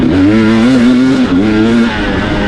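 A 2023 KTM 300 XC-W TBI off-road motorcycle engine revs steadily up close, its pitch rising and dipping slightly over a couple of seconds, loud and alone with no talking.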